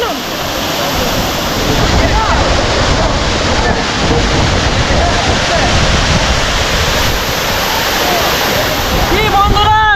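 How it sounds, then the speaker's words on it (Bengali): Gandahati waterfall in the Mahendragiri Hills of Odisha roars loud and close, a dense, unbroken rush of falling water with wind buffeting the microphone and voices faintly mixed in. "গন্ডাহাটি ওয়াটারফলস"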